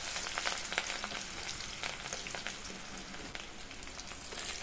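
Chopped onion and green chilies fry in coconut oil for semiya upma, giving a soft, even, rain-like sizzle with a few faint stirring taps, quiet and close, and no voices.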